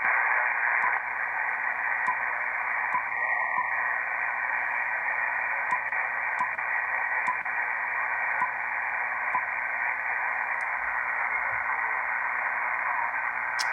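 A ham radio receiver hisses with steady band static while tuned to a very remote station, with faint occasional clicks and no clear voice emerging.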